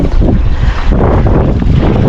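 Strong wind buffets the microphone at sea off Bahrain during a fishing trip, a dense, loud, continuous rush with boat and water noise underneath and no talk.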